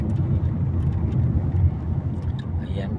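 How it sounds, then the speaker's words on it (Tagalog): Heavy road traffic on the way to BGC Taguig gives a dense, continuous low rumble of idling and crawling vehicles nearby, with a voice speaking over it. "Grabe po ngayon oh. Sobrang traffic po talaga."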